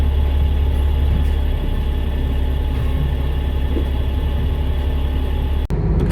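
A Bustech XDi bus with a Cummins ISC 8.3 litre turbo diesel hums in a steady low, heavy drone, close and continuous, before a brief sharp knock near the end.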